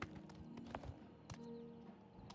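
Horse hooves clip-clop in a steady trotting rhythm during riding in the Oblivion Remaster video game, close and moderately loud over a soft ambient bed, with a brief whinny-like tone mid-way.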